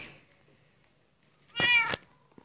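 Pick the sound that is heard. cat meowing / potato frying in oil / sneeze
cat meowing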